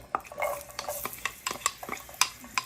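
Onions tossed into potatoes frying over a medium flame for home fries: quick, close spatula scrapes and clinks against the pan over a light sizzle, in short bursts.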